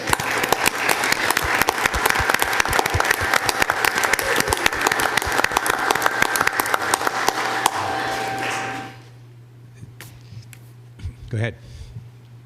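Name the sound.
audience applause at town meeting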